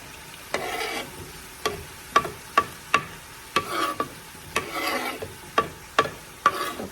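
A spoon stirs green pepper and celery in a hot pan, giving a steady run of close, sharp scraping knocks over a soft sizzle.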